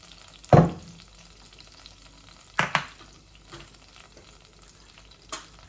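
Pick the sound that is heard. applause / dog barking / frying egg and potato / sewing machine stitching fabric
frying egg and potato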